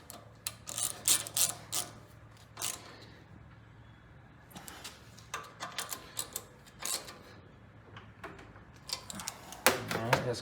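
Ratcheting clicks come from tightening down a part on a Kohler Magnum 18 engine, in short bursts of close, quick mechanical clicking separated by quieter pauses.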